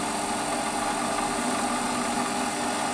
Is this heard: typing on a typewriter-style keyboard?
no